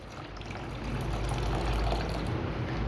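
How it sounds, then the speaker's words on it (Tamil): Tamarind water poured into a pot of fish curry, a soft continuous liquid pour that swells slightly as it goes, with no talking. "நம்ம புளி கரைச்சி வச்சுருக்கோம்ல அந்த தண்ணி இதில் நம்ம வந்து சேர்த்துக்கிடலாம்"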